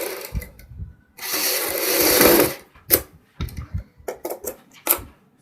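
A sewing machine stitches strips for a kurti neck design in short bursts, with one long run followed by several quick stop-start stitches and brief pauses between them.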